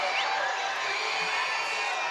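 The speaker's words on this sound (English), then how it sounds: "Crowd coming alive as that one has to be fought off." Baseball crowd at a Banana Ball game, the All-Stars against the Auburn Tigers at Auburn University, cheering and whooping from a distance. The roar stays fairly steady and moderate for the whole stretch, with scattered shouts rising out of it.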